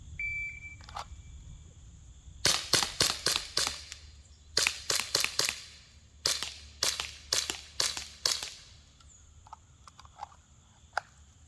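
Rapid shots from a modified Umarex Glock 17 Gen 4 air pistol, sharp snapping cracks in three quick strings of about five shots each, close and loud against a quiet background, then a few faint clicks.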